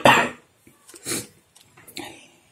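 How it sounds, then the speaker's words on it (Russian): A woman coughs hard once and close, followed by a few softer throat-clearing coughs with pauses between, while she is ill with a seasonal viral cough. "Сейчас я кашляну."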